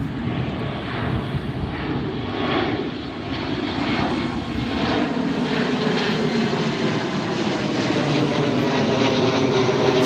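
An airliner takes off at Heathrow Airport, its engines giving a loud, continuous roar with a broad rumble that holds steady and then swells slightly across the whole stretch, with no voices.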